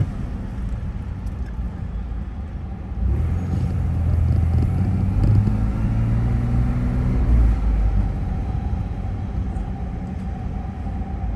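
A car drives through downtown city streets, giving a continuous low road rumble and engine drone close by. The rumble swells louder midway as traffic passes, and no one speaks.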